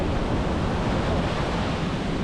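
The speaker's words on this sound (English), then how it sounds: "The current is just crazy around here, and these waves are pretty wild" Ocean waves on a beach at Nusa Penida with strong currents, heard as a steady, loud, continuous roar of surf mixed with wind buffeting the microphone.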